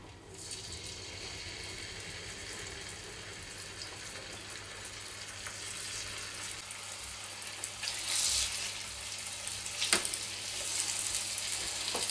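Pork loin sizzles steadily in a hot frying pan, a broad, even hiss with faint crackles and occasional pops building slightly louder toward the end, heard alone with no talking.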